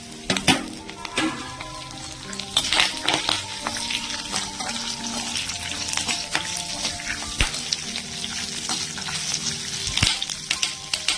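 Pirandai (veld grape) frying in a pan with ginger, garlic, urad dal and chillies: steady close sizzling with occasional scrapes and clinks of stirring, no talking.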